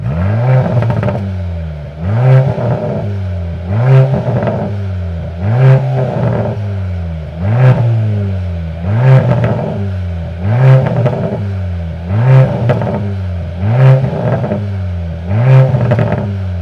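A 2.0-litre four-cylinder petrol engine in a Mercedes-AMG GLC Coupe revs again and again in a steady rhythm of about nine sharp throttle blips, each one rising and then falling back toward idle. The revs are loud and close, with no talking.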